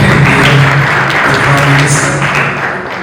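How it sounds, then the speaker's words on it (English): Audience applause at a Rwanda youth nuclear summit, a steady wash of clapping from a crowd that holds for about three seconds and tapers slightly at the end. "you should have given it a clap, please"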